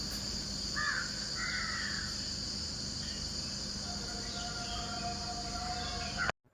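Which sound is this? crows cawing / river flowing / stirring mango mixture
crows cawing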